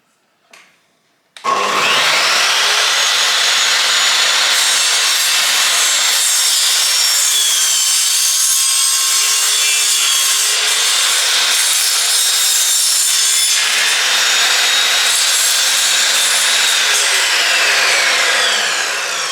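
On a Portugal homestead, a saw cuts through a clamped piece of wood with a loud, continuous, close rasping whine that starts abruptly and runs unbroken for about seventeen seconds, with no talking.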